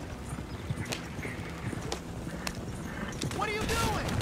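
A horse at speed in Red Dead Redemption 2, hooves clip-clopping in a quick rhythmic patter under game noise, with a voice speaking briefly near the end.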